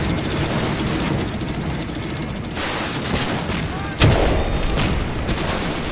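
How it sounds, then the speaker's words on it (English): Heavy combat in a war video game: sustained rattling gunfire with booming grenade-like blasts, one sharp loud burst standing out near the end amid the din. "Yeah, I'd say they're grenades there."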